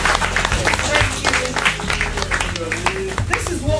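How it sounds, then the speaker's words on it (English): Staff clap together in a room after a talk, a dense burst of close applause sustained throughout with voices and murmurs woven through it. "A round of applause."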